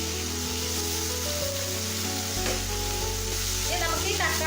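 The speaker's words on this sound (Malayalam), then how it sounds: "ഇനി നമുക്ക് ഇതിലേക്ക് കട്ട് ചെയ്ത് വെച്ചിട്ടുള്ള തക്കാളി ചേർത്ത് കൊടുക്കാം" Chopped tomatoes hit hot oil with ginger and garlic in a pan for butter chicken, giving a continuous loud sizzle and stirring noise under steady background music.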